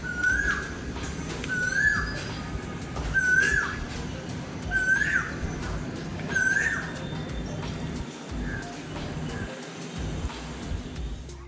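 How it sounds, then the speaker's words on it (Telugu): A koel calls repeatedly outdoors, a rising whistled note sounding about every one and a half seconds, clear over a steady background hum. "బయట కోయిలు అలా అరుస్తూ ఉంటే చాలా ప్రశాంతంగా అనిపిస్తుంది"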